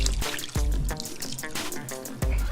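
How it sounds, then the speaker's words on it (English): Beef broth poured into a slow cooker over a pot roast, a continuous liquid splash and trickle broken by a few heavier thuds, close and fairly loud. "And you want to take your beef broth and pour that in there as well."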